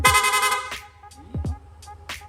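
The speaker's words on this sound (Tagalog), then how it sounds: "Rapid horn, yun, no?" A Yamaha NMAX 155 scooter's dual MDL/PIAA horn blares in a rapid rippling burst, then short clicks and sweeping chirps from a two-way alarm follow, loud and close.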